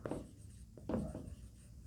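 Pen or chalk writing by hand during a lecture, a few faint scratchy strokes with a brief rub, quiet against low room noise.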